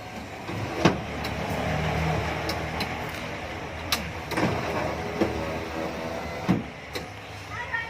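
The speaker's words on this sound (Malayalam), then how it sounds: "ഇത് അവിടുത്തെ പവർ വിൻഡോ വർക്ക് ചെയ്യിപ്പിച്ച് തരാം." Power window motor on a Matador vehicle's driver cabin running in a few short whirring bursts, with sharp clicks and thumps as the glass starts and stops, close by inside the cab against a steady low background hum.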